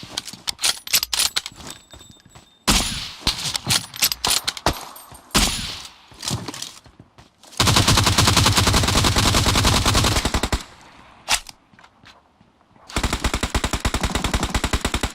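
Automatic gunfire rattles in PUBG Mobile on the Vikendi map, with loud rapid bursts of shots broken by brief pauses and short single cracks, close and dominant.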